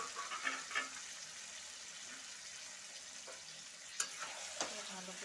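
Mutton pieces stirred into a well-fried onion and spice masala in a pan, giving a faint steady sizzle broken by a few clinks and scrapes of a spoon against the pot.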